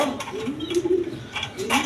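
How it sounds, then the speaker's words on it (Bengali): Peshawari pigeons, also called Lahori, give a few soft, low cooing calls close by against a murmur of background sound. "পেশোয়ারি কবুতর, পাকিস্তানি পেশোয়ারি কবুতর, লাহোরি বলে আর কি"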